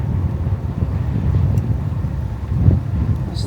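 Low rumbling wind off the ocean shore at Châtelaillon-Plage buffets the microphone continuously, a dull roaring blur with occasional gusts and no speech.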